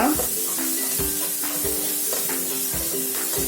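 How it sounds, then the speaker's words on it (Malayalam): Onions and ginger garlic paste sauté in a pan for a Kerala-style fish biryani, giving a steady loud sizzle with repeated scraping stirs at a regular rhythm close by, with no talking. "അതുകൂടെ ഇട്ട് നല്ലവണ്ണം വഴറ്റിയെടുക്കുക"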